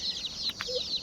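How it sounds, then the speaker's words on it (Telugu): Chicks of colored and bonta chicken breeds give a quick burst of high, thin peeping, faint and brief with no voices. "రంగు కోడి పిల్లలు, అదేవిధంగా బొంత కోడి పిల్లలు అని చెప్తున్న కోడి పిల్లల్ని నేనైతే మీకు సపరేట్గా చూపిస్తాను"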